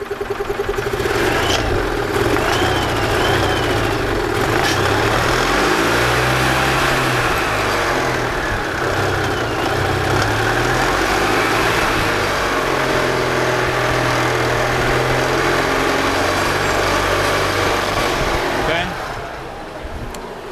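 The small gas engine of a 2002 EZGO TXT golf cart cranks, catches and settles into a steady running idle that continues for most of the clip before cutting off near the end.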